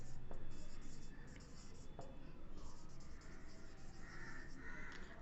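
Pen or pencil writing by hand on paper, faint scratchy strokes in short bursts over a quiet background.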